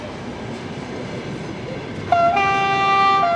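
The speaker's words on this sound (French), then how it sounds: "traverser les voies et faire bien attention à laisser passer les trains" A Trans-Siberian train rumbles steadily past a platform in Siberia, then a loud, sustained horn blast sounds midway through and holds to the end, close by and alone without talk.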